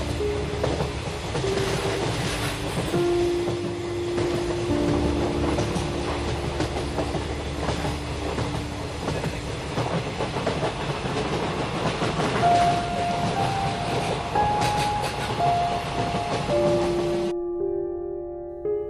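A moving train in a cartoon rattles with a steady rhythmic clatter of wheels and carriages, loud and continuous, with sustained whistle-like tones toward the end before cutting off abruptly.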